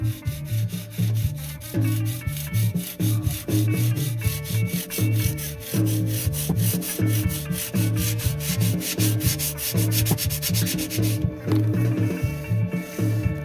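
Steady rhythmic rubbing and sanding strokes on a guitar's metal burrs, smoothing them flat during a repair at a luthier's workbench, loud and continuous with a repeating back-and-forth pattern and no talk.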